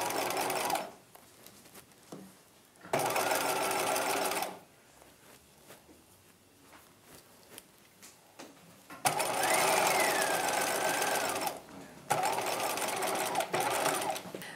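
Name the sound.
sewing machine stitching front princess seam of bodice lining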